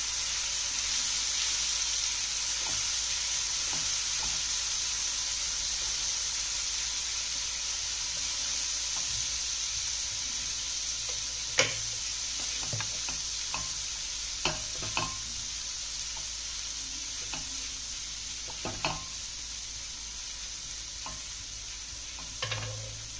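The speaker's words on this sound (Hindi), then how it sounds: "1/4 टीस्पून ऑयल गरम हो चुका है तो आप इसमें डालेंगे हम लहसुन।" Minced garlic sizzling in a quarter teaspoon of hot oil: a steady, close frying hiss, broken by scattered clicks and scrapes of stirring, with no voices.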